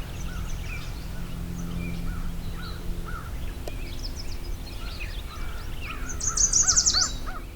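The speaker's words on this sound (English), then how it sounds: "Lots of crows calling in the background. American crows." American crows caw repeatedly in the background of a swamp, fairly distant among other birdsong, with a louder burst near the end.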